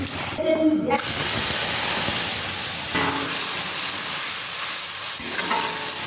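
Potatoes fry in oil with Kashmiri chili powder and turmeric, a near, strong sizzling hiss with stirring scrapes and brief bursts of louder spatter, steady for the whole stretch.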